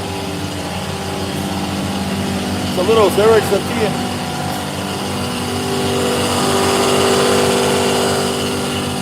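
Older Peterbilt semi truck with an 18-speed transmission, its engine droning steadily and then swelling in a long rev near the end, with a brief voice speaking over the engine early on.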